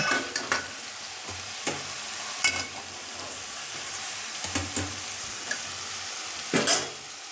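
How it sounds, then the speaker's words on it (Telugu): Bottle gourd pieces frying in oil, with a soft continuous sizzle broken by repeated stirring scrapes and spatula knocks at irregular intervals, close by and without talk. "మంచి ఆయిల్లో మాత్రం మంచిగా పర్ఫెక్ట్గా గోలించుకోవాలి"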